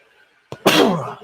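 A single sneeze, a short sharp intake followed by a loud explosive burst that trails off, heard close and alone during a wrestling watch-along livestream.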